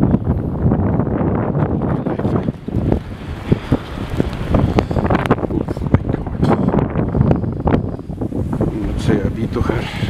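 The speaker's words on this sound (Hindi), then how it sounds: "और बहुत तेज़ हवा है इस वक्त" Strong gusty wind during a snowstorm roars against the microphone in heavy, fluctuating blasts, with a voice talking intermittently underneath.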